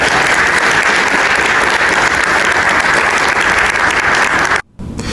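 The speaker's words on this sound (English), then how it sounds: "So if we can give Reese a big round of applause for that." Loud, dense applause from an auditorium audience celebrating Reese, sustained and even for several seconds before cutting off abruptly near the end.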